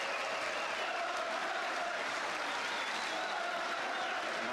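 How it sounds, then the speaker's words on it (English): Sustained applause from a football stadium crowd at a 1973 Chelsea versus Manchester United match, a dense, even wash of clapping heard from a distance and holding steady throughout. "listen now to the applause as Charlton leaves league football"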